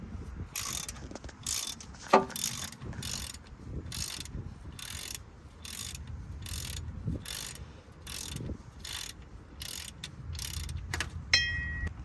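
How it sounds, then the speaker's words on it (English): A ratcheting wrench loosens a transmission plug on a 2002 Jeep Wrangler, giving a series of quiet, evenly spaced clicking strokes in a regular rhythm close by, with a faint metallic ding now and then. "put it into this socket and start loosening with our wrench"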